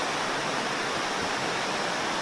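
A river in a forest flows with a steady, even broadband rush, continuous and moderately loud throughout, with no voices.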